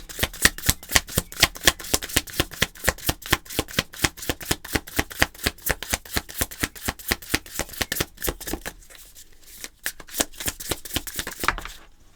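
An oracle card deck being shuffled close by, with a fast, steady run of crisp card riffles and slaps that thins out near the end as cards are drawn.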